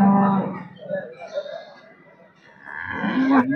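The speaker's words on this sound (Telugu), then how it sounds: "ఈ హెచ్ఎఫ్ ఆవు లక్ష్మీపతన్ వాళ్ళది" A Holstein Friesian cow at a busy cattle market lets out a loud low moo, followed by background chatter from people nearby and a second mooing call near the end.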